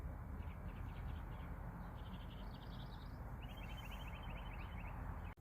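Birds chirp and trill in short bursts outside a parked car with the window rolled down, faint over a steady low rumble of traffic or engine noise.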